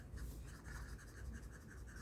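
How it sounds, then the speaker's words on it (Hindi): Pen writing on paper while working a maths exercise, a steady continuous scratchy stroke sound with small rhythmic pulses, close and fairly quiet with no talk. "तो यहाँ पे हम लिखेंगे"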